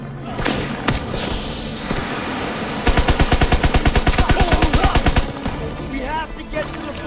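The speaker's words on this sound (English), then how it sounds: "advance of those MGs firing on our position!" Machine gun fire in Call of Duty WWII, a loud, rapid burst of evenly spaced shots lasting about two seconds mid-clip, set among scattered gunshots, thuds and battle noise.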